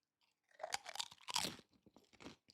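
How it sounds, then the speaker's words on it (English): Food is chewed right up against a microphone, loud crunchy bites and wet mastication packed into a couple of seconds, with no talk. "I shouldn't be chewing directly into the microphone"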